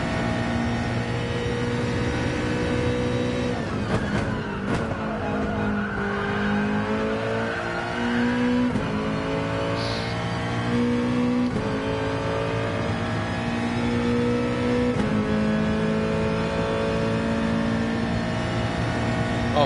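A Nissan race car screaming around Monza in GT Sport, the engine holding a loud steady howl that dips on a gear change and then climbs again as it accelerates, with occasional tyre squeal, continuous throughout with no voices.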